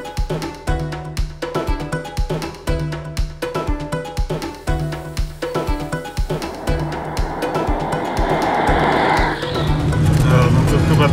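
A Fiat 126p Maluch drives a dusty built-up road in Mongolia, its small engine droning steadily and building toward a louder, rougher rush of road and wind noise near the end.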